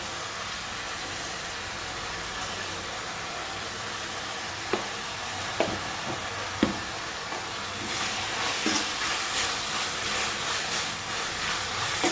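Tomatoes with salt fry in a pan with a constant close sizzle, a few sharp knocks from the utensil against the pan, and livelier stirring toward the end.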